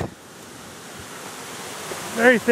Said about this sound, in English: we're here at the first major waterfall